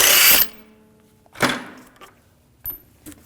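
A socket wrench loosens lug bolts on a 2001-2009 Volvo S60 wheel, giving a loud opening rattle, then several shorter metallic clanks and ratchet clicks spaced across a few seconds, close by with no talking.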